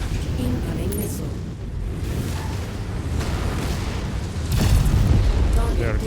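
Heavy missile blasts in the MechWarrior game, low rumbling booms that swell and grow louder near the end, layered under continuous game noise and a speaking voice.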